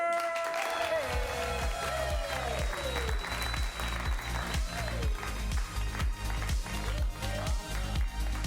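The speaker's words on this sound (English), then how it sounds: "give them the biggest round of applause ever!" An audience applauds actors coming back onto the stage at a live comedy show, a sustained wash of clapping and crowd noise that holds steady throughout, with voices and tonal sounds mixed in.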